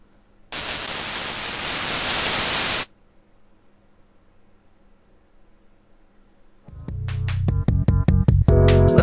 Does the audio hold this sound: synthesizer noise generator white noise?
yes